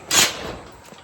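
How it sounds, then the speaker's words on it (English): A door on a chicken tractor swings open with one short scraping swish that fades quickly, leaving a quiet outdoor background. "Open up the door,"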